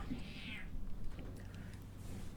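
A pet cat gives a short rising meow near the start, fairly close, then a couple of faint softer sounds over a steady low background hum.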